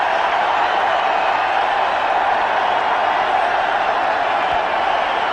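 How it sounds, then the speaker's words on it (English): A large cricket stadium crowd roars in a dense, steady wash of cheering and noise, loud and continuous without distinct claps. "Crowds have come alive."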